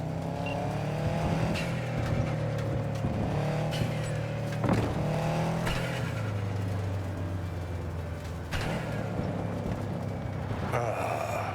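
Car driving in the Cyberpunk 2077 video game, a steady engine drone with gear shifts and occasional bumps, with game character dialogue faintly over it.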